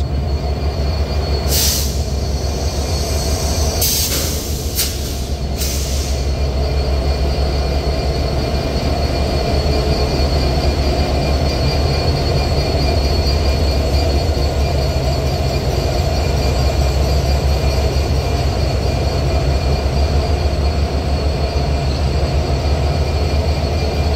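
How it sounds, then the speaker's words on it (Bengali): Madhumati Express train hauled by an American Beast locomotive, 6634 BEP 32, rolling steadily with a loud continuous rumble, wheel noise and brief high squeals near the start. "আজকে দেখতে পাচ্ছি আমেরিকান বিস্ট লোকোমোটিভ, যার সিরিয়াল নাম্বার 6634 BEP 32"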